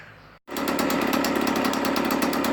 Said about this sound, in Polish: No i posłuchajcie jak silnik chodzi.